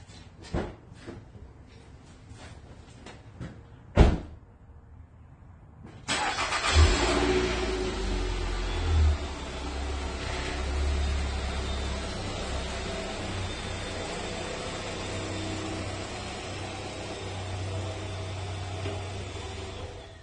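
A few clicks and a door thump come first in a garage, then a car engine starts and runs at a steady idle as the car is moved out, a medium-loud rumble with no talking.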